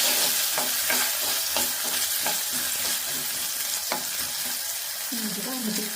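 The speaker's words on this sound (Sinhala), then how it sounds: "දැන් තෙල් ටික චුට්ටක් රත් වුණාට පස්සේ මම මේකට මුලින්ම අල ටික එකතු කරගන්නවා." Potatoes seasoned with salt and turmeric sizzle loudly in hot coconut oil in a pan, a steady fry broken by repeated scraping stirs of a spoon.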